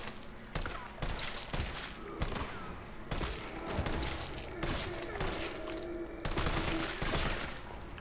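Rapid bursts of gunfire shooting zombies in Resident Evil 3, repeated sharp shots in clusters over several seconds, loud and close with ambient game noise between volleys.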